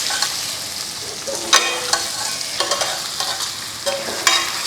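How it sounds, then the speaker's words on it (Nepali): Chicken seasoned with cumin and coriander powder sizzles loudly in a hot pan as a utensil stirs it, with several distinct scraping strokes over a constant frying hiss. "यसरी धनियाँको धुलो पनि राखिदिन्छौँ र चलाइदिन्छौँ"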